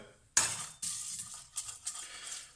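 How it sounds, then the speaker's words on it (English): Fenugreek seeds hit hot oil: a crackling sizzle with a broad hiss after a sudden start, with a few light pops and stirring clinks, fairly close. "These will start to pop very shortly. You can start to see them start to sizzle."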